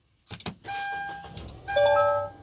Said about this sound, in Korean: 제가 시동 걸어 보겠습니다.